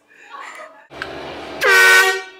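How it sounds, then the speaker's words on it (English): An air horn blares loudly in a short, bright blast near the end of the clip, pulled off as an April Fools prank, after a brief voice and a rumbling vehicle. "Honk the horn."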